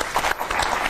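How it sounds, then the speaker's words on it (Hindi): Audience applause for a young boy at an indoor children's event, a continuous dense crackle of many clapping hands filling the room, with some voices mixed in underneath. "सुधांक के लिए एक बार जोरदार तालियां हो जाए"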